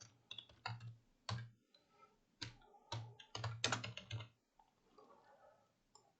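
Keystrokes on a computer keyboard while Java code is written, coming in quick irregular bursts of clicks with short pauses between them, close and fairly quiet, with no voices.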